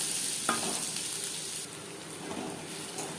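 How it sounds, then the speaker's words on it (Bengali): Two large onions fry in refined oil in a wok, giving a constant close sizzle with occasional stirring scrapes. "পেঁয়াজ লালচে করে ভেজে নেব"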